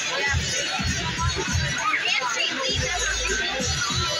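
Lively crowd at a Home Run Derby X baseball event in Fredericksburg, a steady, loud babble of many voices, cheers and children's chatter filling the space without a break.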